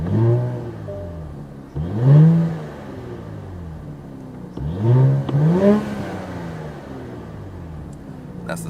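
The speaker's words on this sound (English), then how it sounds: "Let's give it a rev real quick." A 2024 Nissan Z Heritage Edition with an automatic gearbox revs twice through its stock exhaust, each rev rising sharply and falling away, close and loud, with a steady idle between the revs.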